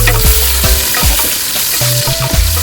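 Diced onion sizzling loudly in a pan for Algerian-style rice, with several close spatula scrapes and stirs breaking the constant hiss, no talk.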